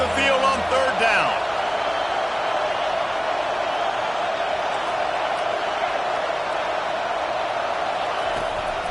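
Home crowd roaring in a college football video game against Alabama on third down, a loud, dense, sustained roar after a brief burst of clatter at the start.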